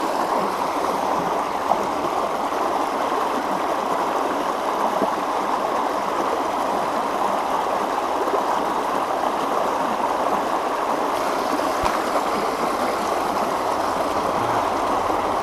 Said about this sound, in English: there's like a waterfall right next to me